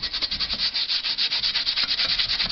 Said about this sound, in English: you can pretty much see on it where you need to scrub it off